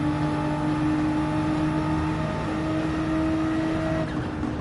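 Engine of a car racing at Watkins Glen in Gran Turismo 7, a steady loud droning whine holding an even pitch throughout with no voices.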